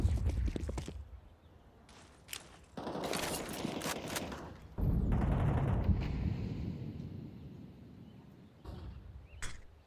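Pistol gunfire in Counter-Strike 2 during a pro match, with sharp shots and bursts that come in clustered volleys and sit among footsteps and general game noise.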